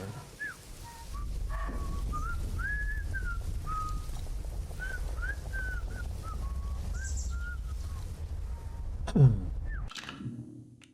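A character whistling a tune in the Atomfall video game, a steady run of clear wavering notes held over a low ambient rumble, ending in a brief louder burst and a cut to quiet.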